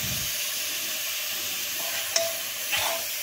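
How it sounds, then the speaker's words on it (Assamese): Grated carrots for gajar ka halwa are stirred in a pan over a medium gas flame, giving a steady close sizzle and hiss with a couple of brief scraping knocks near the end. "এতিয়া গাজৰখিনি অলপ লৰাই থাকিব লাগিব নহ'লে জ্বলি যাব"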